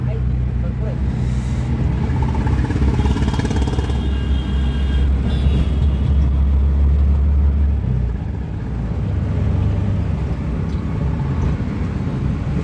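Riding in an auto rickshaw through traffic, a loud, steady low engine rumble and road noise fill the whole stretch, dipping briefly partway through, with voices talking faintly underneath.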